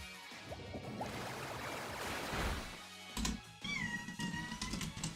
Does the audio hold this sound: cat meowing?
yes